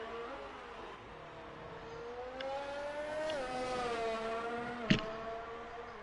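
An F2 race car on a fast lap around the Singapore Grand Prix circuit in a racing video game howls at high pitch, climbing through the revs with a gear-change dip and a sharp click near the end, heard alone.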